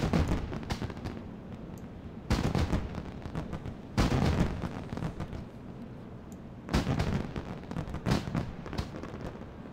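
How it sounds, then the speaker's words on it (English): Fireworks display at the Ironforge Craft Fair in World of Warcraft: four loud bursts of crackling booms spaced a couple of seconds apart, each trailing into sparkly crackle and rumble. "Wonderful fireworks display."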